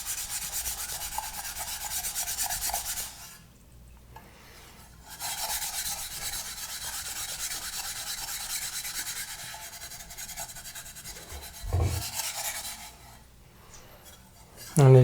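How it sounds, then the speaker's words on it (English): Fine-grit steel wool is rubbed over surplus steel rifle magazines, making close, dry, raspy scrubbing strokes in sustained bursts separated by short pauses, ending with a brief knock. "I'll switch to this fine grit steel wool here"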